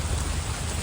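Rain falls on a cold, wet day while walking over a bridge into York, a continuous broadband wash of drops that stays loud and uniform, with no one talking.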